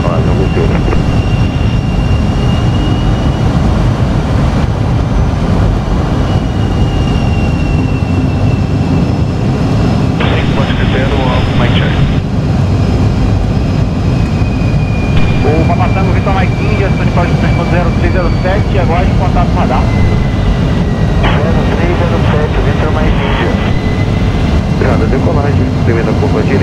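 Aircraft taking off in Microsoft Flight Simulator 2020 during a military training flight at Santa Cruz, Rio de Janeiro: a steady, loud engine roar and rumble that holds for the whole stretch, with a person talking over it.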